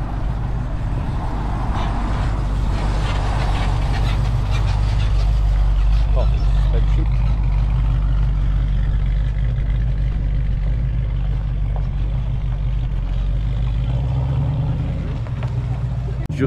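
An orange Plymouth Barracuda on massive fat tyres rolls into a classic car meet, its deep engine rumble loud and steady at close range throughout, with crowd murmur faintly behind.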